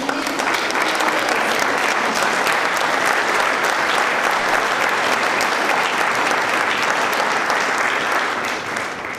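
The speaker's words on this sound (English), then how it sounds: "How about one more just round of applause for all of these amazing educators" A large audience applauds educators at a recognition event, with loud, dense clapping and crowd noise sustained evenly throughout.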